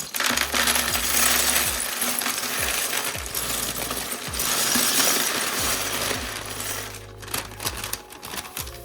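Bulk plastic LEGO parts pour out in a long, loud, continuous clattering cascade of small pieces, tapering into scattered rattles near the end, with no voices.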